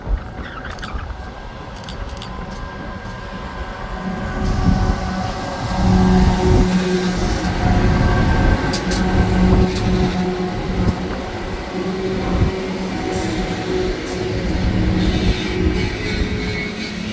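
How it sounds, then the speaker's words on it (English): A loaded coal train rolls past at Hexham, its wagons rumbling and clattering in a loud, continuous stream that swells after the first few seconds and carries on steadily, with no talking. "up coal train passing"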